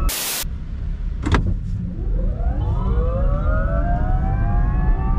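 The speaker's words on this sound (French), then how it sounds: "Ça me fait toujours mourir de rire l'accélération de cette bagnole." Microlino Lite electric microcar accelerating, its motor whine rising steadily in pitch like a siren over road rumble, loud and close, after a brief clunk at the start.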